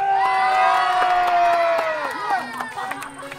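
Crowd cheering and shouting loudly at a rap battle event in Las Piñas, a sustained roar of whoops and raised voices that gradually fades.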